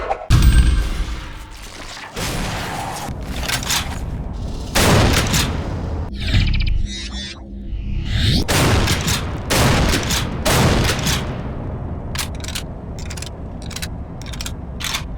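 Shotguns boom repeatedly in a first-person shooter game, a lever-action among them, with loud close blasts, mechanical reload clacks and crashing impacts spread across the stretch.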